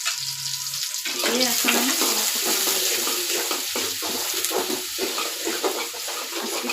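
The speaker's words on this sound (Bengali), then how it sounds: "পেঁয়াজ কুচি দিয়ে তারপর দিব কাঁচামরিচ কুচি" Chopped onion and green chili sizzle in a hot pan. A continuous crackling fry starts about a second in and carries on loudly while someone talks over it.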